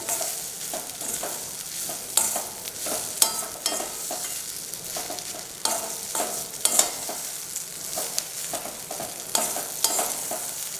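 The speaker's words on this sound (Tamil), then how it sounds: "இதை ஒரு ரெண்டே நிமிஷம் பிரட்டி விட்டிங்கன்னா நம்மளோட ஆனியன் பொடி இட்லி ரெடி ஆகிடுச்சுங்க" Onion podi idli in a frying pan is tossed and stirred continuously, with a low sizzle beneath repeated close scrapes and sharp clinks of the utensil against the pan.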